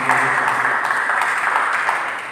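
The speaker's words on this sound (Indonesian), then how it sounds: "Berikan tepuk tangan." A church congregation at a Good Friday service applauds in a steady, dense wash of clapping, moderately loud and continuous for a couple of seconds.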